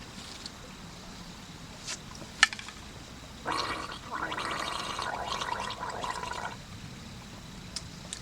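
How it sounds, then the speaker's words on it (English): Gargling and swishing a mouthful of white oak bark infusion, a wet bubbling burst lasting about three seconds at moderate volume, with faint outdoor background and a few small clicks around it. "Gargle it, swish it around my mouth."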